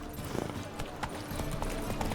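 Roach the horse's hooves in Witcher 3 clip-clopping in a steady trot, faint beneath game ambience.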